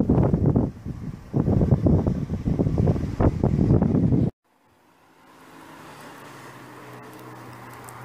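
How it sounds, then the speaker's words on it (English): Strong wind on a hilltop in Croatia buffeting the microphone, heavy gusting roar for about four seconds that cuts off abruptly, followed by a softer, steady breezy hiss. "I hope you can hear me over the sound of the wind, which is quite strong up here"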